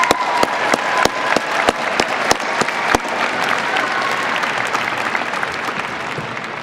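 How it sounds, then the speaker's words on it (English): Graduation ceremony audience applauding the graduates, with dense, sustained clapping that fills the hall and several sharp, loud individual claps standing out in the first half before the sound settles into a steady, even wash. "let's give all the graduates another great round of applause."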